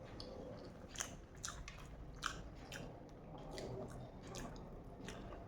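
Someone eats a home-cooked Bengali meal alone, with crisp fried bitter gourd and green chillies, giving faint, close, irregular chewing and crunching with small wet clicks over a low room hiss, no talk.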